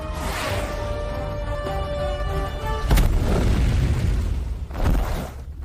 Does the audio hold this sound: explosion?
yes